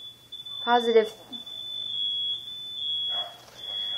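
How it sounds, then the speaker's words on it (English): A house smoke-style fire alarm sounds a continuous high piercing electronic tone throughout, steady and fairly loud, while a person speaks briefly over it. "The fire alarm just went off"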